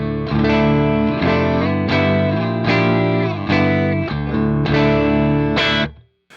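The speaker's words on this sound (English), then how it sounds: "this is what my guitar sounds like just dry" An electric guitar played dry straight into an amp strums a sequence of sustained chords, each ringing bright and full with a slight edge, ending in a quick muted cutoff.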